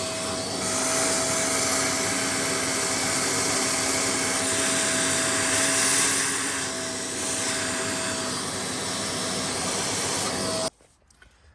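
A vacuum roars steadily up close while sucking drilling dust out of a freshly bored hole for a ground anchor, a continuous loud hiss with a faint whine that stops abruptly near the end.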